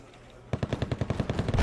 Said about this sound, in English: T-80 should be able to fire on that.